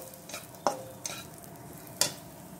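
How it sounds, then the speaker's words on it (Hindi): Raisins roast in ghee in a kadhai over a low flame with a soft, even sizzle, broken by a few sharp clacks of a spoon stirring against the pan. "अब जो घी बचा हुआ है इसी में ये किशमिश डाल देती हूँ।"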